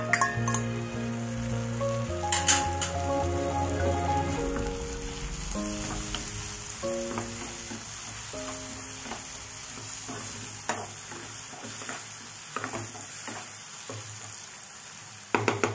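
Tomato pulp sautés in a pan for upma, giving a continuous sizzle with intermittent stirring clicks, while a tonal background melody plays and nobody speaks.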